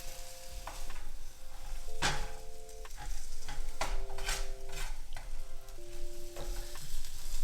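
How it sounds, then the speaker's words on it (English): Plant-based ground meat being stirred in a hot pan, with scraping utensil strokes and sizzling close up, mixed with a few brief steady background tones. "I'm just gonna stir it and mix it up."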